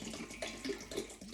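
Cold water from a fridge dispenser splashing into a bowl of ice, a continuous close, moderately loud gurgling stream with small bubbly surges.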